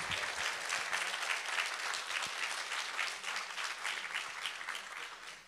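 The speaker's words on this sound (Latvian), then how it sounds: "Aplausos, dāmas un kungi, turpinās!" Steady audience applause fills the hall at the 2024 opening event of "Māksla būt uzņēmējam" in Valmiera, dense continuous clapping from a large crowd, loud and sustained without talk.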